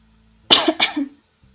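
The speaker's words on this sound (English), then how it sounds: "Sorry for all the coughing." A single sharp cough burst, two quick hacks close to the microphone, followed by near silence.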